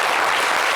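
Brief burst of dense studio-audience applause on a French talk show, loud and close, many hands clapping at once.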